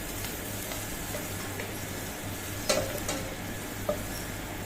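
Spinach with turmeric being stirred in a pan for a Kerala thoran, giving a steady low sizzle with a few soft scrapes of the spoon against the pan, close and moderate in level, with no voices.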